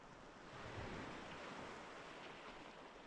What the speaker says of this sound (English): the waves and this crystal clear water